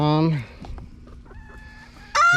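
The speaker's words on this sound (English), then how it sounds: "got a couple chickens, one big happy rooster" Chickens cluck and a rooster lets out loud crowing calls at the start and end, with softer clucks and bird chatter in between.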